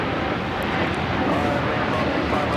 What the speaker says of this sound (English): Flight 1755 coming in from Houston Intercontinental on the A321neo